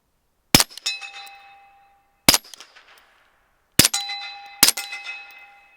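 Four sharp shots from a Flux Defense Raider gas airsoft gun crack close by, each followed by a brief metallic ringing clang, spaced irregularly with silence between.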